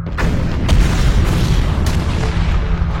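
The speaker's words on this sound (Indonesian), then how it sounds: "Ledakan bom mayat itu jauh lebih besar dari sebelumnya." Deep booming blasts of a corpse bomb exploding rumble under a dense, continuous roar, with a few sharp bursts cutting through.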